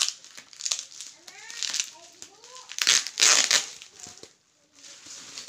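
Plastic packaging around an Akaso EK7000 Pro action camera crinkles and crackles up close in bursts during unboxing, while a voice talks over it.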